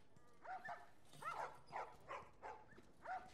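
A game puppy lets out a series of short, soft yips and whimpers, about six evenly spaced cries, quiet and without talk.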